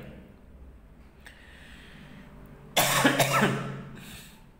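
A single person coughs during a seventh-grade mathematics lesson: one loud, harsh, close cough burst after a quiet stretch, fading out over about two seconds.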